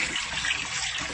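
Water flows and swirls steadily in a tub used as an aquaponics tank, a brief continuous rushing, gurgling wash heard close and alone.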